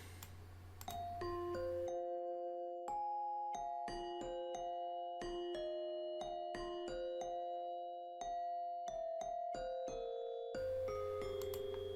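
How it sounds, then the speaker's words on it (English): A bell synth layered with a real glockenspiel plays a bright, sparkling melody, with chiming struck notes repeating in a steady rhythm over sustained lower bell tones, loud and close with no voices. "We got this bell synth, And then we have, like, an actual glockenspiel"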